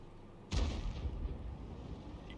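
A T92 HMC self-propelled artillery gun fires a round in World of Tanks, a single deep boom that cuts in sharply and rumbles away over the next two seconds, alone without speech.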